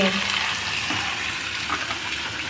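Browned onions with tomatoes frying in a pan, a steady close sizzle and stirring scrape with a faint voice in the background.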